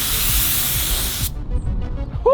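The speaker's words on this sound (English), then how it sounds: "And we have Val spraying our mid coat here." A spray gun lays a gold-flake mid coat onto a McLaren 720S: a loud, steady broadband hiss for just over a second that cuts off abruptly, leaving quiet room noise and faint movement.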